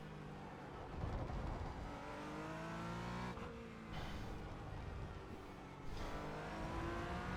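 A race car's engine at full throttle through a corner at Interlagos, a loud, steady roar with a rising pitch and brief dips near the middle as it shifts, close and continuous throughout.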